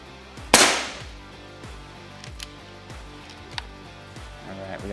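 Air Venturi Avenger air rifle fired once, a sharp close crack early on followed by lighter ticks and clicks over faint background noise.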